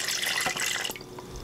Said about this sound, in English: I'm gonna add about 2 cups of water.